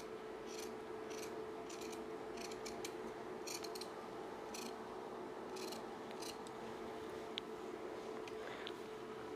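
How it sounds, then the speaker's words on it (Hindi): Scissors snip through blouse fabric along the neckline in a series of quick, close crisp cuts. A steady faint hum runs underneath. "इसके गले की कटिंग करनी है"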